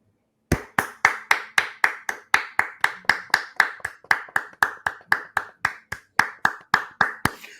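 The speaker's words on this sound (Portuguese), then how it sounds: "palmas para Maurício Noriega" Rhythmic clapping welcoming guest Maurício Noriega on a TV and football chat show, a steady train of sharp, evenly spaced claps from a small group, close and crisp after a brief silence.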